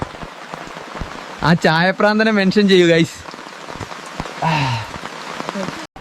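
Heavy rain falling at Bekal Fort, a steady wash of drops hitting surfaces throughout, with a person talking and a few sharp nearby knocks over it.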